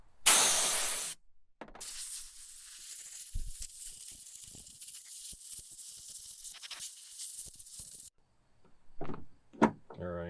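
Compressed air blasts gunk off a magnesium chainsaw side cover, with a short loud hiss, then a longer, steadier high hissing spray broken by small knocks, then quiet handling sounds.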